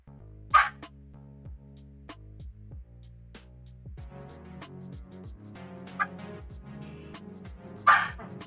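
A dog barks three times, short and sharp, at moderate distance. Sustained tonal music plays steadily underneath the whole time.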